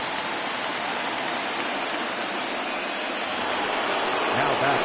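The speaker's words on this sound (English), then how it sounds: "It's raining cats and dogs out there." Heavy rain pouring down on a baseball field during a Tampa Bay game, a dense steady hiss filling the whole moment, fairly loud and unbroken.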